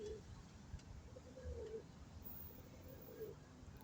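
Pet pigeons coo softly in a few low, rolling calls spread across a quiet room, faint and close, with light background rustling.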